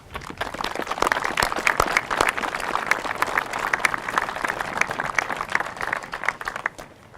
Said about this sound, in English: I think that we really need to owe them a round of applause